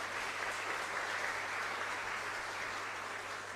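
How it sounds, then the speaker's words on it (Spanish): A congregation at a Mass in a chapel claps steadily and densely throughout, a continuous wash of applause with no pauses or voices standing out. "un fuerte aplauso para la comunidad"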